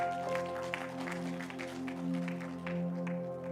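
Audience at a church gathering applauding over sustained background music, a steady rolling patter of many hands at even volume throughout, with no voices on top.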